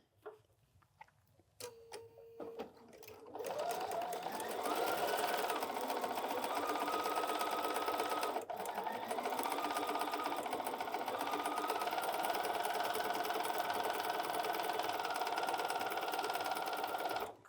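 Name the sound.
sewing machine sewing quilt fabric pieces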